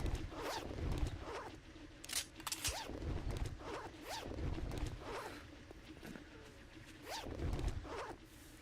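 Clothing zippers on a scavenger outfit in the video game 7 Days to Die are pulled repeatedly, giving quiet, close, quick zips roughly once a second, each with a rising rasp.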